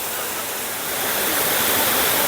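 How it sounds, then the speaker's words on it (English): Waterfall at Lower Falls near Graveyard Fields in North Carolina, a loud, continuous broadband roar of falling water, steady and close, with no voices. "So I've made it over to the waterfall."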